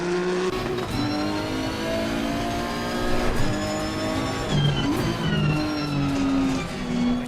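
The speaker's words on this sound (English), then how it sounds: "I need my volume a bit louder so I can hear what the engine's doing" A race car engine in Assetto Corsa Competizione drones loudly and continuously, its pitch rising through revs and dropping at shifts, with brief tyre squeal, heard alone without talk.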